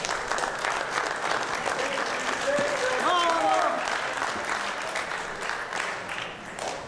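Wrestling crowd at an NWA Central States triple-threat match claps steadily throughout, a dense continuous patter that swells slightly mid-clip, with a commentator's voice and crowd noise mixed in.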